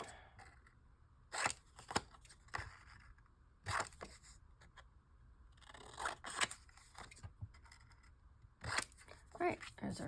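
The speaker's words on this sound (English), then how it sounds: "I like to section mine off so I'm not working with one giant piece of paper, and then just cut everything out." Scissors snipping through sheets of paper printables for a Christmas gingerbread junk journal, several separate bursts of close, crisp cuts with quiet rustling between them.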